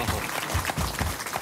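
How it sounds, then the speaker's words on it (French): Audience applause for Dominique at a French television show, steady dense clapping filling the moment with no voices on top. "on peut applaudir Dominique"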